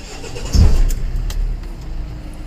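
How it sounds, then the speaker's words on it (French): A C1-class truck's engine cranks and starts in neutral with the parking brake set, catching with a loud low rumble and settling into a steady idle, close and with no talking. "Je procède à la mise en route du moteur."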